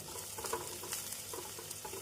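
Onions sizzle steadily in a hot pan, with a soft stirring scrape now and then, close and alone.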